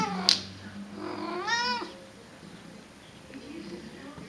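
A female cat coming into heat meows twice indoors, one sharp short cry and then a longer, wavering, drawn-out yowl, both close and loud against quiet room noise.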